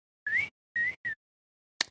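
A voice imitates a little whistle: three short rising whistled tones in quick succession, then a brief breathy squeak, close and alone against silence.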